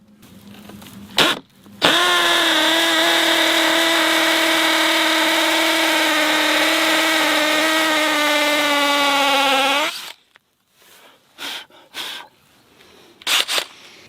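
A DeWALT XR 18V cordless drill runs in hammer mode at speed 2 for about eight seconds, a loud steady whine with a brief start and stop, framed by short handling knocks before and after.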